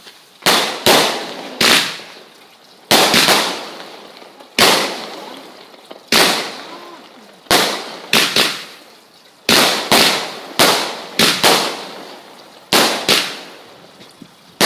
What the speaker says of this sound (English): so next fireworks